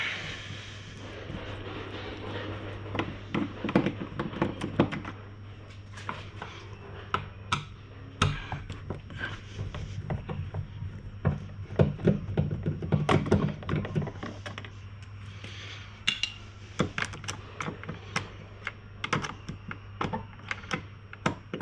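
Phillips head screws being backed out with a magnetized screwdriver during a Clearview mirror install on a 200 Series Land Cruiser: scattered small clicks and taps over a steady low hum, with no talking.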